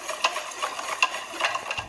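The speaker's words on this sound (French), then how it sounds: "Et je vais mélanger à nouveau donc ma vanille liquide dans ma préparation." A spoon or whisk stirs liquid vanilla into cupcake batter in a bowl, a soft, wet swishing with light, regular taps of utensil on the bowl, close up and alone.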